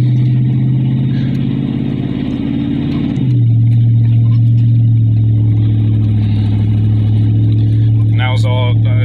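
Gas 6.0 V8 engine of a 2009 Chevrolet 2500HD pickup towing about 5,000 lbs, a steady low drone that deepens and grows louder partway through as the truck pulls away under light throttle, with a short chime near the end.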